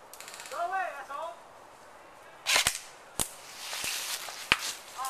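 Sharp paintball gun shots crack during an outdoor capture-the-flag paintball game, a quick burst of several pops midway followed by scattered single shots, with people talking and shouting briefly beforehand.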